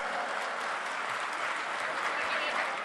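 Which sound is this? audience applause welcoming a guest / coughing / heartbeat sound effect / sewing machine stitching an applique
audience applause welcoming a guest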